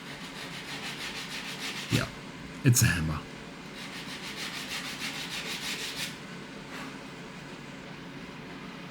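Wooden hammer handle being sanded, a steady rubbing scrape running throughout with a couple of sharper knocks partway, a voice speaking briefly over it.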